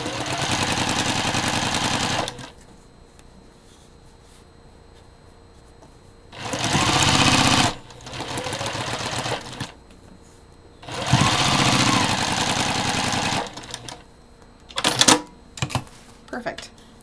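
A sewing machine stitches quilt seams in three long, steady bursts separated by quiet pauses, followed by a few short stop-start runs, loud and close in a home sewing room.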